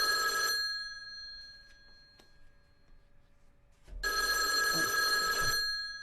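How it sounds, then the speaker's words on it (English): A mobile phone rings in two bursts of a bright electronic trill, the first fading out after about half a second and the second starting near the four-second mark and running over a second, with near-silence between. "Excuse me, that's my mobile phone."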